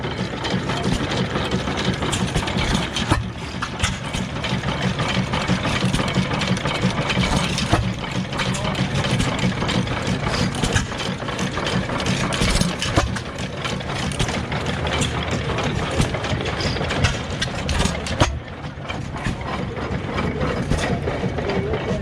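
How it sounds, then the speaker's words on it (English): An 8 horsepower stationary engine idles at an engine show, a steady close mechanical chugging with rattling, ratchet-like clatter throughout, other machinery running in the background. "This is an 8 horse."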